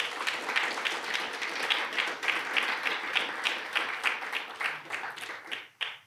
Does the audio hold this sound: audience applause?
yes